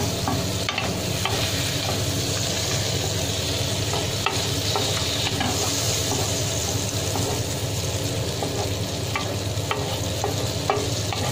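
Butter sizzles in a hot pan, giving a dense, steady crackle close by for the whole stretch, with scattered clicks and scrapes of stirring and no talk.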